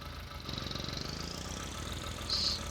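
A custom machine engine in Farming Simulator 19 public works gameplay runs with a steady, fairly noisy mid-pitched drone and faint rhythmic pulsing, alone without talk.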